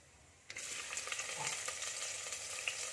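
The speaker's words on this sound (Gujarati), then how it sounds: "ડુંગળીને આપણે સાતરી લેશું" Onions go into hot oil with cardamom, black pepper and bay leaves for mint pulao, bursting into a loud, steady sizzle after a brief quiet start, with occasional stirring scrapes close by.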